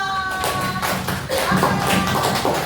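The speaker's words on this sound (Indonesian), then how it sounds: "Kasih tepuk tangan buat kelompok 4." Classroom applause for a student group after their presentation in a coding lesson, a short burst of claps and taps, fairly close and busy, with some voices mixed in.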